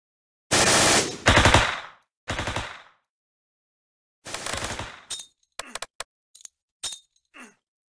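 Video-game machine gun fire: several long, loud automatic bursts in the first half, then a scatter of short single shots and brief volleys, all close and with no talking.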